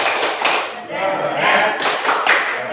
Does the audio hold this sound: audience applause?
yes